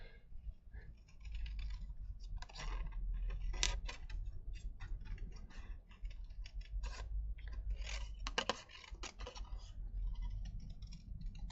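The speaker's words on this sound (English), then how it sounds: "Get rid of all that extra card, just making it harder to cut out, along with sticky scissors." Scissors snip through craft card in a quiet room, with irregular close clicks and cuts scattered across the clip and no one speaking.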